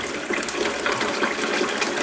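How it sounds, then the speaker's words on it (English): Continuous hissing, gurgling rush of water refilling a toilet cistern, steady and fairly close, with faint mechanical ticking in the flow and no voices. "Turn the water on again. Let's fill it up."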